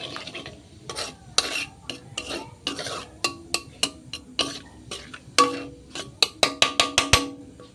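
A spoon stirs cumin seeds in hot oil in a pan for fish curry, a quick series of sharp metallic scrapes and taps over a faint sizzle, close and irregular.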